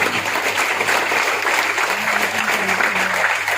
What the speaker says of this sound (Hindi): जोरदार तालियां चाहता हूं